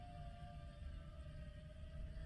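A faint, steady siren wail drifts in from a fire station some distance away, holding a sustained tone over low rumbling background noise.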